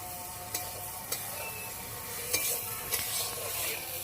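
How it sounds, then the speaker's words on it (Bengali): Fried cauliflower sizzling as it is stirred into spice masala in a pan, with a constant frying hiss and a few sharp clicks of a spatula against the pan. "মশলার সঙ্গে কপিটা ভালো করে কষিয়ে নেব"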